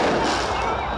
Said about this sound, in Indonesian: Kembang api ditembakkan ke udara